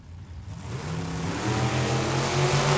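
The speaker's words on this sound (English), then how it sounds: "Looks like a couple of Chevys, a pickup, and a sedan, left and right lanes." Chevy pickup and sedan launching side by side at a drag strip in Tucson, their engines building from a rumble into a loud, rising roar of acceleration heard close to the track.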